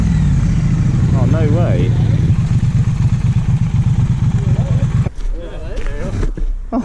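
Triumph Street Twin motorcycle engines idling with a steady low rumble and pulsing throb, loud and close, while people talk and exclaim over them; the engine sound cuts out near the end.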